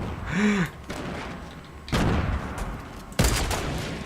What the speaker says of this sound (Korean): 와 유탄 날라오는 거 봐